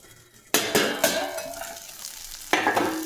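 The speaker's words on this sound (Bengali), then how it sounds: "লবণ হলুদ মাখিয়ে বেগুনটাকে আমি ভেজে নেব।" Salt- and turmeric-coated brinjal pieces fry in hot oil, giving a close, crackling sizzle with two sharp bursts as pieces go in or are turned, along with light scraping of a utensil against the pan.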